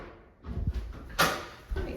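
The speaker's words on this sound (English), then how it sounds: "Close that door." An interior door of an older house pushed shut at the top of the attic stairs, giving a solid thump with a brief latch rattle, close and fairly loud, with no talking over it.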